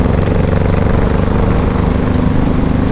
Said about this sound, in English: That V4 has a really good sound.